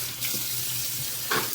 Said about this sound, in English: I just give the screen a rinse.